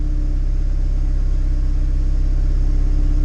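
A turbocharged Honda B20 VTEC engine with flex fuel injectors, in an EK hatchback, idles steadily, running a little rich, with a loud, close, even low rumble and a fast regular pulse that holds unchanged throughout.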